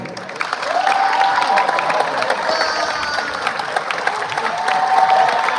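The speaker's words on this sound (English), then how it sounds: "Let's give a round of applause to our athletes as they walk in." Steady crowd applause at a school signing day fills the space with dense clapping, mixed with scattered cheers and a few voices, continuing throughout at moderate loudness.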